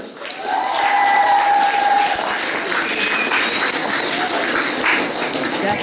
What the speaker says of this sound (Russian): давайте еще раз бурными аплодисментами похвалим наших девушек